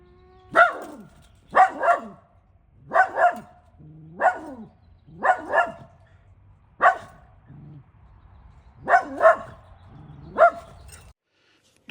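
A guard dog barks at a cat in a series of about ten loud, close bark bursts, mostly doubled, spaced a second or so apart with brief quiet gaps between.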